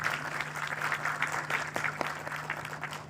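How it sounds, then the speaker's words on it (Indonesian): A seated audience at an Indonesian business training seminar applauds the MC with steady, dense clapping that fills the room, over a constant low electrical hum. "Tepuk tangan yang meriah untuk MC kita sore hari ini, Bapak Agus Budiman."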